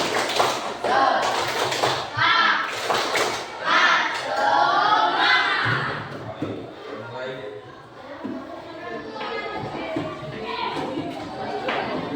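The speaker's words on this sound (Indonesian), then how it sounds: "Ya, tepuk semangat." Rhythmic spirit clapping (tepuk semangat) in a classroom, with a group of children tapping out patterned claps in quick bursts while voices chatter and call out over it, loud and close.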